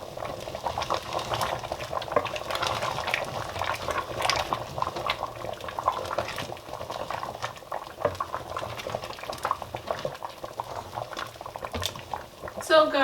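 Palm oil with dry chili boiling in a pot, a busy continuous bubbling and spattering sizzle held close and fairly loud, with faint sounds of movement beneath it.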